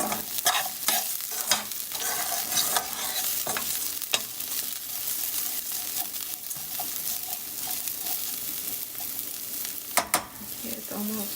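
Rice browning in oil for Mexican red rice is stirred in a pan, making a continuous sizzle broken by repeated scraping spoon strokes and a few sharp clinks, close and fairly loud, with no talking.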